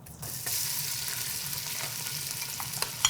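Onions frying in a pot for potato and bacon soup, a steady close sizzle with occasional faint clinks from stirring, no voices.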